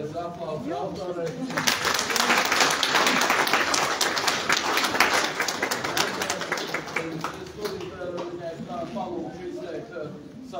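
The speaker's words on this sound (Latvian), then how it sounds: "kā lūdzu vēlreiz aplausi autorei" A roomful of people clapping for the author at a Latvian Artists' Union exhibition opening, applause rising after a brief spoken moment and continuing steadily before thinning, with talk audible at the start and beneath.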